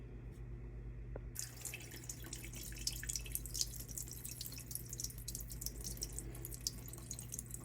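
Water trickles and drips steadily as it drains from a bowl of rinsed rice held against a lid, a continuous close splashing flow with no talking.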